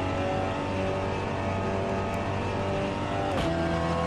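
A Seat Leon TCR race car in Assetto Corsa at Watkins Glen holds a loud, steady high-revving engine note, with a quick pitch drop near the end as it shifts gear.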